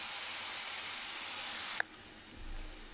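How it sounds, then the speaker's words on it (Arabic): Onion fries in a pan for shakshuka with a close, steady hiss that cuts off abruptly after a short click, leaving a quieter low hum. "ونخليوها تطيب مزيان تتقلى معانا"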